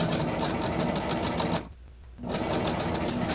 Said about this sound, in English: I'm just sewing as close as I can to the original seam, making sure it's flat.